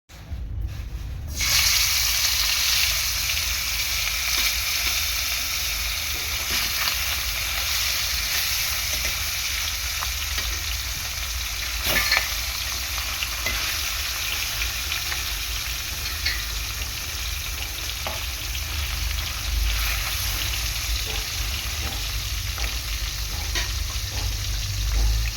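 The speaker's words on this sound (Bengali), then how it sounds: "মাছটা উল্টে পাল্টে ভালো করে ভেজে নেব।" Fish sizzles and spits steadily in hot mustard oil in a wok, a dense continuous frying hiss throughout with occasional louder crackles and stirring clatter.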